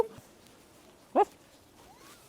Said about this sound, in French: Et c'est un sacré toutou